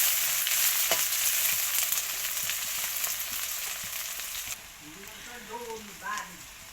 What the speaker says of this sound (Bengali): পেঁয়াজ কুচি, পেঁয়াজটা একটু ভেজে নিতে হবে হালকা